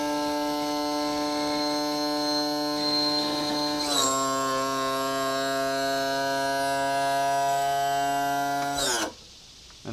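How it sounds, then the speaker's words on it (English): A boat's hydraulic trim motor hums with a steady electric whine that shifts slightly lower in pitch partway through, then cuts off abruptly near the end, leaving quiet. "let the motor cool off for a minute, because we don't want to burn out our brand new motor"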